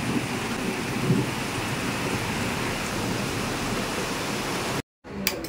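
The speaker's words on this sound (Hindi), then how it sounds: "फाइनली बारिश आ चुकी है, ये देखो ये बिजली भी कड़की रहा था साथ साथ में" Heavy rain pours steadily and close by as a dense, unbroken roar during a monsoon storm, with thunder rumbling low inside it; the downpour cuts out abruptly near the end, then resumes faintly.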